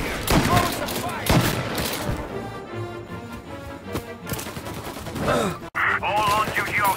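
Shootout gunfire from the video game Mafia Definitive Edition: loud rapid shots and heavy impacts in the opening seconds, then a busier mix of voices and effects with another sharp burst near the end.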